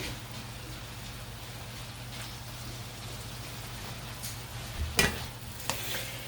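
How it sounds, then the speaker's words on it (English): Garlic and onions fry in a pan for a keto cheesesteak, a steady, fairly faint sizzle under a low hum, with a few louder scrapes and knocks of a spoon stirring near the end. "Give it a good stir. It smells wonderful already. And that's the garlic and the onions."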